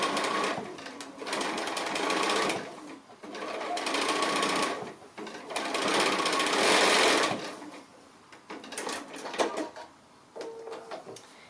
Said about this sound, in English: So we're just starting and just stitching all the way down, pushing those pleats, stitching straight over those pleats to hold them down.